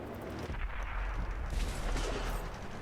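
Tank cannon fire in World of Tanks from a T-54, heavy booming shots with low rumbling blasts amid dense battle noise, loud and close with no talking.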